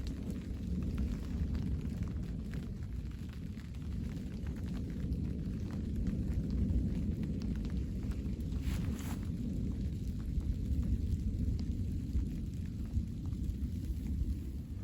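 Deep, continuous low rumbling of thunder in a pre-dawn thunderstorm over an island campsite, heard steadily and fairly near throughout with no talking.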